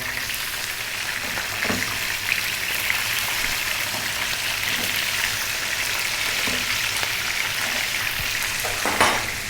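Sea bass fish steaks fry in a pan with a steady, close hiss and sizzle, and a few soft clicks and scrapes of handling cut through the frying noise.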